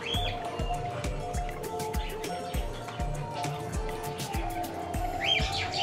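Small birds, budgerigars and cockatiels kept at a village resort in Gaibandha, chirp and tweet in a busy chorus under a steady rhythmic mechanical thumping and background hum.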